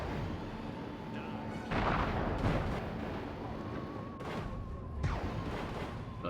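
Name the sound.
missiles fired at player in Destroy All Humans video game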